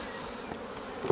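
Honeybees in a beginner's beehive during an inspection give a close, continuous buzzing drone for a brief moment, with no voices.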